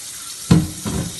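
Ice cubes dropped into a glass of warm water, giving a short splash and clink followed by a softer second plop, close and alone.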